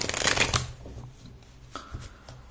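A tarot deck being shuffled to draw a clarifier card, a dense burst of riffling card noise in the first half second, then softer scattered card handling, close and with no talking.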